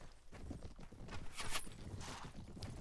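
A group of about ten mounted riders in the game Mount & Blade Warband, their hooves clip-clopping steadily at a moderate distance in a continuous patter, with faint battle noise behind.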